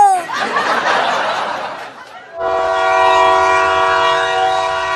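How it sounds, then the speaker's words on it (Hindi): An arriving train sounds a loud, sustained horn with steady harmonic tones after a burst of noisy rumble and clatter, the horn holding strong and close until the end. "आ गई ट्रेन, आ गई ट्रेन"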